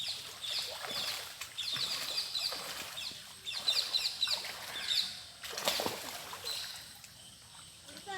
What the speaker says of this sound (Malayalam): ഇപ്പം നിങ്ങൾ കേട്ടാണല്ലോ നല്ല കിളികളുടെ ശബ്ദവും